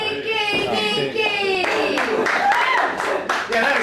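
Applause and clapping for performer Dangerous Dinky at a live venue, a crowd's hands beating steadily while a host's voice carries over the top.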